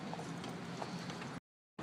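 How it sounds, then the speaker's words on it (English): Hooves of a horse pulling a carriage clip-clop along a street in a quick, even rhythm, faint and somewhat distant, with a brief cut to silence near the end. "Beautiful horse and carriage."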